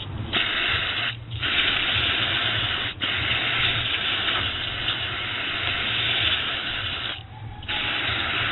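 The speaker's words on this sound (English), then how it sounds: "And you use the air, you blow it out." Compressed air blasting debris out of a ball bearing, a loud continuous hiss close up, broken by a few short pauses where the air stops, with no talking.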